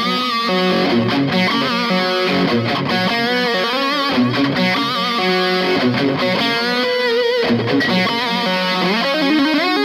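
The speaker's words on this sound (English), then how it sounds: "let's have a listen to a melodic riff with and without the delay" Melodic electric guitar riff played through a Radial Tonebone Plexitube British-style tube distortion pedal with delay, sustained overdriven notes with repeating echoes, loud and continuous with brief gaps between phrases.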